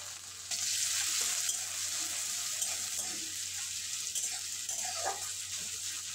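Chopped onion with black cumin seeds and a torn dried red chili frying in hot oil, a steady close hiss and sizzle with occasional soft stirring scrapes, no voices.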